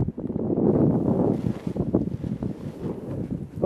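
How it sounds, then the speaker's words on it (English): Steady gusting wind on a ridge during paraglider flying buffets the microphone, a loud rushing roar with no voices. "It's quite windy at the moment."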